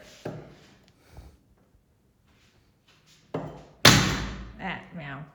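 Several dull thumps of garlic being smashed on a cutting board, spaced apart, ending with one loud smash and a voice speaking briefly afterward.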